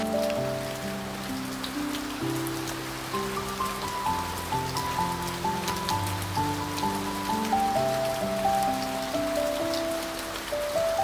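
A heavy rainstorm drums on a bamboo hut in the countryside, a constant, dense patter under soft music, steady throughout with no speech.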